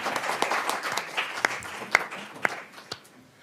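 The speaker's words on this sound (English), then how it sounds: "I thought that deserved an applause." Brief scattered applause from an audience at a community foreign relations council event, a handful of distinct claps that thin out and fade within a few seconds.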